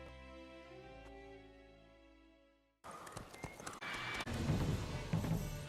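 Roach, the horse in The Witcher 3 video game, trots after a stretch of fading music. Rhythmic clip-clop hoofbeats are close and steady, with some rustling mixed in.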